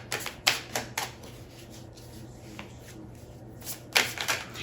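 A tarot card deck is shuffled close up in short, soft riffling bursts, one cluster near the start and another near the end, with quieter stretches between them.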